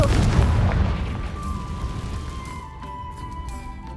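A Confringo explosion spell from the Hogwarts Legacy game bursts into a loud, rumbling boom that slowly decays, leaving a thin ringing tone and faint game ambience behind.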